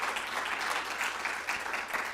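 An audience applauds at a town hall on youth mental health, a brief dense patter of clapping heard at moderate distance without talk.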